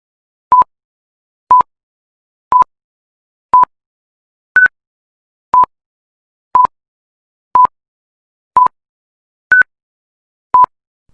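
Eleven short, pure beeps sound one per second in an auditory oddball sequence: mostly identical low-pitched tones, with two higher-pitched tones dropped in at irregular points, each clean and isolated against silence.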